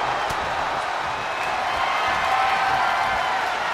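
Virtual arena crowd cheering in the WWE 2K23 wrestling game during an Undertaker versus Randy Orton Last Man Standing match, a steady, dense roar of fans at constant loudness throughout.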